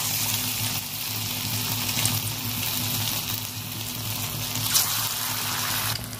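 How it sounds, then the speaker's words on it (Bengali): Bhetki fish pakora frying in hot oil produces a steady, close, bubbling sizzle that continues evenly from start to finish, with no voices. "তেলটা গরম হয়ে গেছে, এর মধ্যে এবার মাছগুলো আমি দিয়ে দেবো"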